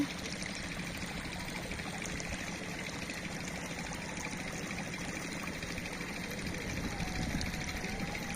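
Water is poured from a bowl onto plant roots, a soft, steady faint trickle throughout with a low background hum.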